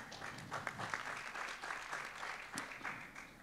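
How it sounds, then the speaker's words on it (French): Soft, distant applause from an audience at a panel session on financing transitions, a steady diffuse patter of many hands lasting a few seconds. "allez-y, vous pouvez l'applaudir, bien sûr"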